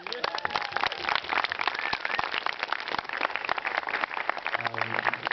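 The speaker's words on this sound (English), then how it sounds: "So as a round of applause." Audience applause at a festival Q&A session, a dense patter of many hands clapping continuously at moderate volume, with faint voices mixed in.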